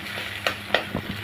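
Egg frying in a pan with pointed gourd, quiet sizzling broken by a few quick scraping stirs in an uneven rhythm, close and soft.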